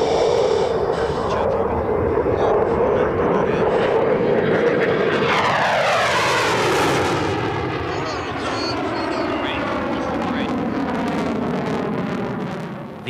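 An F-16 fighter jet of the Thunderbirds demonstration team accelerates after takeoff, a loud, continuous engine roar with a rising, sweeping whine heard from nearby, with talk in the background.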